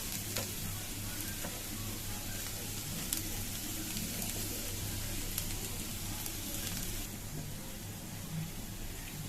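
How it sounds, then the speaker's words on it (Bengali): Steady, close sizzling of onions frying in hot oil, a continuous crackle with occasional soft stirring and no voices. "দেখুন পেঁয়াজটা কিন্তু খুব ভালোভাবে ভাজা হয়ে গেছে।"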